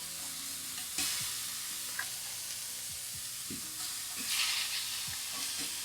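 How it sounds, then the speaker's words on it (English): Steady broadband sizzle of lamb frying in a hot pan, with occasional metallic stirs and scrapes; close and continuous, no voices. "That's what I like to hear, honestly. Nice sizzle."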